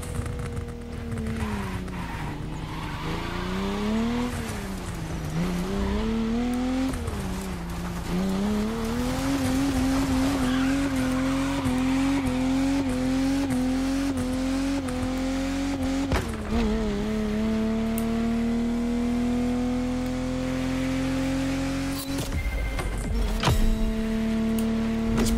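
An Aston Martin DB5 racing in the video game The Crew Motorfest: a steady engine drone that rises and falls through gear changes, with tires squealing and skidding through corners, continuous and close.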